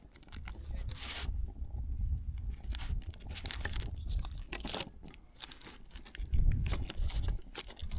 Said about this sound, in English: Let's cut us a slice.